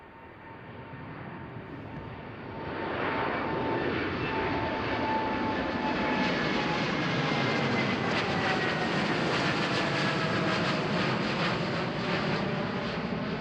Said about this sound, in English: rolling down the runway as we speak is a Boeing 787-8 Dreamliner operated by TUI